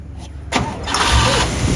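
A 1956 Oldsmobile engine cranks briefly, then fires and catches, settling into a loud, steady run close by with no talk over it.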